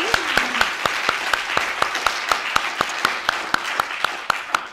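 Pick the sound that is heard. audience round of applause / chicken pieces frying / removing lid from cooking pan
audience round of applause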